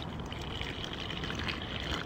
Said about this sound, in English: Pour some water in there